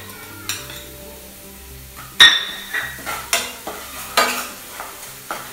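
Onion pickle frying in a pan with roasted, ground pickle powder being stirred in: a steady background sizzle broken by a series of sharp spoon scrapes and clinks against the pan, falling into a regular stirring rhythm.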